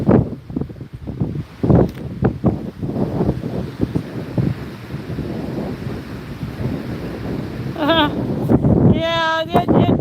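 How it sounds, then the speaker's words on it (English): Breezy outdoor wind buffets the microphone on a cold day, a rough, gusty rumble that runs through the whole stretch, with a few sharp tonal chirps near the end. "It's a beautiful day. I just wish it was a little less breezy"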